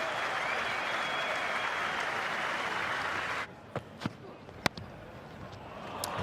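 Test cricket crowd applauds Joe Burns reaching his fifty, a broad sustained roar of clapping that cuts away after a few seconds into a quiet ground with a few sharp, isolated knocks.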